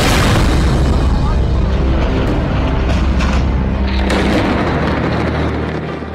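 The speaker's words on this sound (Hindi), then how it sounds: "बेरूत में भीषण बमबारी हो रही है" Heavy bombardment in Beirut booms and rumbles continuously, with dense low blasts and bursts that run together under a constant roar, loud and close for six seconds.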